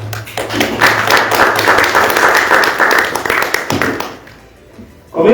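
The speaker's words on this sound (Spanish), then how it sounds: "Aplauso para ellos, por favor." Audience applause at a book presentation, a dense spread of hand claps filling the room for about four seconds before tapering off, with a voice briefly surfacing at the end.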